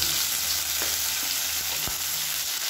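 Chopped onions sizzle steadily in a hot pan over a medium flame for a masala kushka lunch, a continuous frying hiss broken by a few sharp stirring scrapes, close and alone with no voices.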